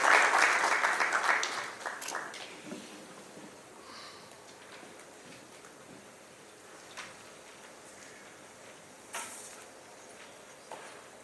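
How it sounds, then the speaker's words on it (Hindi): An audience at the inaugural session of a business event applauds to welcome a speaker, a brief burst of clapping at the start that quickly fades into quiet room noise with a few scattered sounds. "जोरदार तालियों के साथ स्वागत करें मिसेस उषा शर्मा का"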